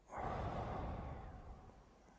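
A single deep breath drawn close to the microphone, a long airy rush that swells quickly and then slowly fades, with no talking.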